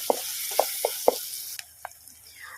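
Chopped onion fries in oil in a pan for a prawn dish, giving a soft steady sizzle broken by several distinct pops and spits.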